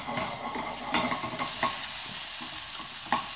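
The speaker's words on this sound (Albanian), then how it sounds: "në një tigan kemi me një copë gjalpi që të të shkryjë" Butter melts in a frying pan with a steady close sizzle and crackle, broken by a few light scrapes and clinks of utensils against the pan.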